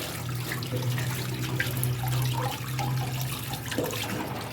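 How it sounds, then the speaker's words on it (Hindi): Tap water runs steadily into a sink for hand washing in a home, a continuous gentle splashing stream at close range with no talking over it. "चलें चलाएं, पानी चलाएं"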